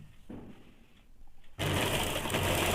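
A sewing machine stitches a blouse sleeve, running steadily and loudly up close for over a second after a quieter stretch of room noise and faint handling sounds.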